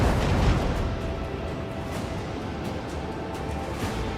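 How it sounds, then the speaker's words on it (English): A macro cannon volley fires aboard a starship in the Rogue Trader game, a rumbling barrage of heavy booms that opens with a loud blast and rolls on as a continuous, dense wall of explosive thunder with no talk over it. "Macro cannon, volley!"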